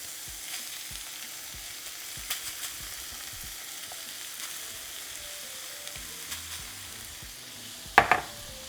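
Refried beans being mixed into a beef taco filling in a hot pan, a soft continuous sizzle with faint scraping stirs, quiet and close, ending in a brief louder clatter.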